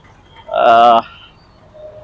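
A bull gives one short, loud lowing call lasting about half a second, then fades into quiet outdoor background along the walking path around Arunachala hill at Tiruvannamalai.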